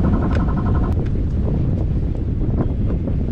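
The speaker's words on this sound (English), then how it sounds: "all of a sudden, the wind just came back." Strong wind gusting across a Bristol 32 sailboat on the Intracoordinated Waterway, a loud continuous roar buffeting the microphone with water and hull noise mixed underneath.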